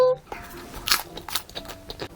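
A close, crisp bite into food with a short crunch, followed by soft chewing and mouth sounds, with faint background noise.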